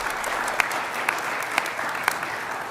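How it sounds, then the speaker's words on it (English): An audience at a political speech claps steadily, a dense even patter of many hands with a few sharper claps standing out, and no voices over it. "Gets a little clap there."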